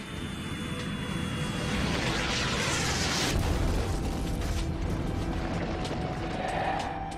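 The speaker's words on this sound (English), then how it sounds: "For about the first 600 million years, comets and asteroids pounded our planet." Comets and asteroids pounding the early Earth, rendered as a continuous loud roaring rumble with crashing surges, a heavy swell near the middle and a sustained dense wash to the end.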